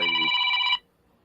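A phone rings with an incoming call: one loud, bright electronic ring burst lasting under a second, then it cuts off into near silence.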